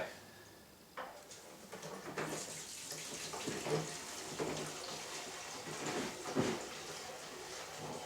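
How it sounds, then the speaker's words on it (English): Gasoline poured from one gas can into another, meant for motorcycle saddlebags: a continuous soft liquid glug and splash lasting several seconds, faint and close, with occasional plastic knocks and a voice speaking over it. "from that can into that can, from that can into that can."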